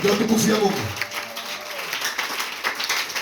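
Church congregation applauding, a broad wash of clapping that starts under a voice and carries on steadily for a few seconds after he stops.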